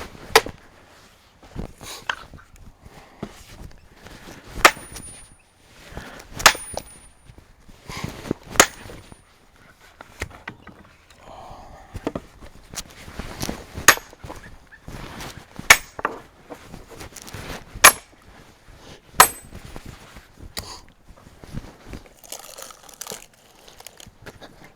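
Axe or maul blows splitting a log by hand outdoors, a long series of sharp, irregular chopping cracks and thuds at close range, some harder strikes standing out, with faint wood crunching and rustling between them.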